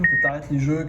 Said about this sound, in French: ça c'était mon alarme.